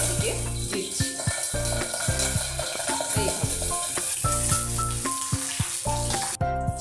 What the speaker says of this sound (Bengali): সেটাতেই আগে বেসন দিয়ে এই চেরা দিকটাকেই আমি প্রথমে তেলের দিকে দিচ্ছি